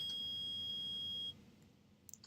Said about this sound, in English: Nick, it's beeping. Metal detector's found something.